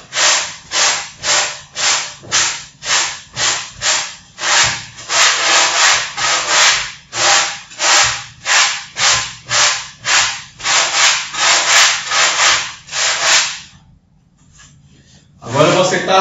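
Someone thins the thick tip of a block by sanding it, making rhythmic, loud back-and-forth rasping strokes for about thirteen seconds before a pause and a final rustle.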